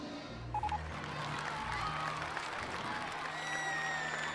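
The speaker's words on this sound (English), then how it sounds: "you know you did a great job when your own guests applaud you through the screen" Guests applauding in a PC business management game, a short burst of clapping and crowd cheer mixed with a few electronic beeps and chime tones, fairly loud and steady.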